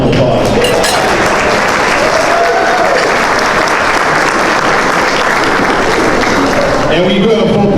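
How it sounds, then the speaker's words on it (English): A large banquet audience at a South Chicago chamber of commerce 90th anniversary dinner claps steadily and loudly throughout, a dense sustained wash of applause with a few voices mixed in. "So let's give yourselves a round of applause."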